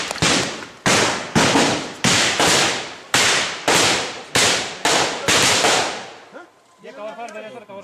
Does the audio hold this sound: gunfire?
yes